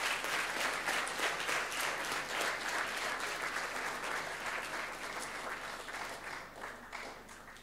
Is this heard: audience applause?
yes